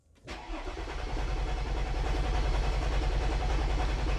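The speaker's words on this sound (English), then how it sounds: "I'm gonna try to crank the engine and see if we can change that." A Mercedes S 320 with the V6 M112 engine cranks briefly and fires, then settles into a steady, close idle that holds to the end with no talk.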